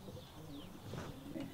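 Racing pigeons coo softly inside a pigeon loft, with low, rolling calls repeating over a faint background hum and no voices.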